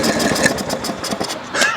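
A Craftsman lawn tractor that sat for five years cranks over with quick chugging pulses, its engine sputtering close by before catching at the end.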